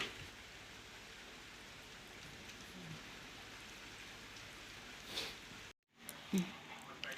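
Rain falls steadily in Himachal Pradesh as a soft, continuous patter with a constant hiss, briefly cut off once, and a few faint handling bumps.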